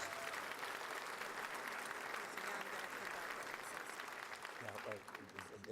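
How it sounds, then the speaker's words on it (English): Applause from the audience at a city's 2019 State of the City address, a dense, even roar of clapping that holds steady, then thins out as voices start to come through near the end. "Give them all a big rousing round of applause for our sponsors."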